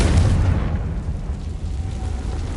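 A Confringo fire spell blasts in the Hogwarts Legacy video game, a deep low boom that opens loud and rumbles off slowly over a couple of seconds.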